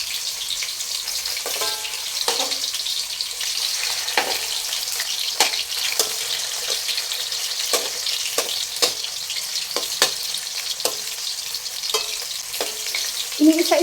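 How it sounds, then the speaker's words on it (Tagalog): Pork sizzling in hot oil for pochero, a steady bright frying hiss with intermittent crackles and spatters as pieces are turned one by one. "Kasi mainit na yung mantika natin dahil may una nang nagisa or na prito."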